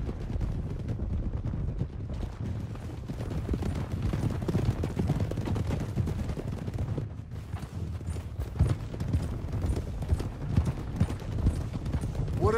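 Horses gallop with steady clip-clop hooves as riders set out in Red Dead Redemption 2, a dense continuous drumming of hooves over low rumble throughout, with a few sharp cracks in the mix.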